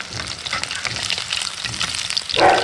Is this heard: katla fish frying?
yes